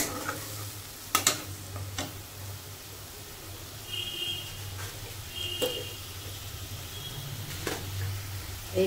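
Spices frying in oil for a papaya and moong dal curry, a soft sizzle with several sharp stirring clacks and scrapes of a utensil against the pan.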